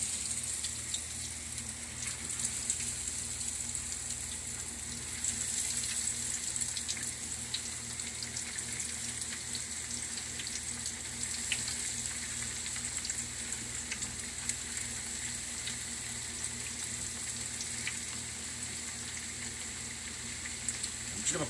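Breaded eggplant fries in hot oil with a steady, faint sizzle and crackle that runs unbroken throughout, carrying a soft watery hiss and no talking over it.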